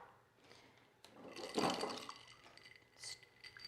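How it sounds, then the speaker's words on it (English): Ice tumbles into a mixing glass while a New Orleans Sazerac is built with bourbon whiskey: a single splashy, rattling burst, then a few light glassy clinks as the cubes settle, close and fairly quiet. "You're going to add all the ice in there, make sure it's all in there good."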